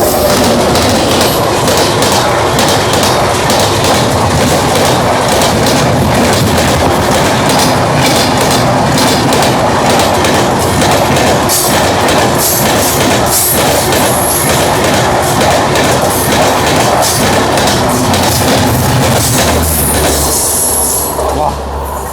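Sindhanur Express 16545 diesel train running at full speed as the Belagavi Superfast Express overtakes it, with a loud continuous rumble of wheels, rail clatter and squeal close by throughout.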